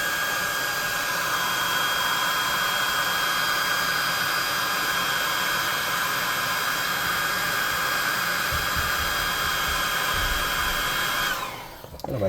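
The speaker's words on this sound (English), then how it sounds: "So I'm going to hit her with the +2 hot air gun of burning again" Hot air gun on a low setting drying paint on a miniature figure, a steady close blowing whine with fan hum that runs unbroken for most of the stretch, then cuts off near the end.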